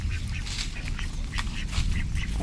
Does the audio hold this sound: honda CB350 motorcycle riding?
no